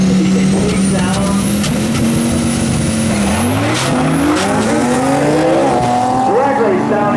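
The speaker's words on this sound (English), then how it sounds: "Drag race down into 1 is Adamick with the advantage" Drag race cars accelerating down a spectator track roar loud and close, with rising engine whines and shifting pitch over continuous noise and a voice talking underneath.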